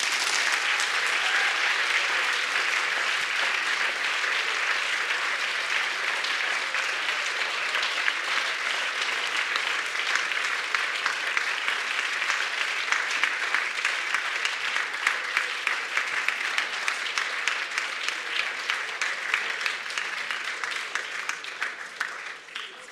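A lecture audience breaks into long, dense applause at the close of a public talk, loud and steady for over twenty seconds, with individual claps growing more distinct as it thins toward the end.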